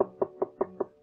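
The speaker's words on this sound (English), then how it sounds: "Who's that knocking at my door?" Five evenly spaced knocks on a wooden door in a 1938 radio show, firm and close, about a fifth of a second apart, with no voice over them.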